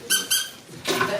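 A squeaky rubber clown-nose toy, used here as a dog toy, is pressed twice in quick succession, giving two short, bright squeaks, then a longer, lower squeal follows. Close and loud, with no talk.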